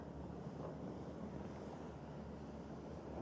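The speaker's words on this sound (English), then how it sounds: "Look how windy it is as they tack." Steady wind roars and rumbles at a sailing race finish on the Derwent among mini-maxi yachts, a constant broadband rush with no voices.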